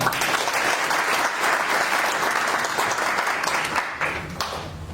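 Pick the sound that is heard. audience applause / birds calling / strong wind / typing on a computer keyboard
audience applause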